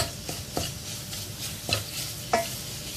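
Tomato paste fries and is stirred in a pot for a bone-broth flour soup, a close, steady sizzle broken by a few spoon scrapes and taps.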